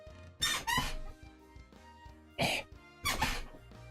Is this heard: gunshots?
no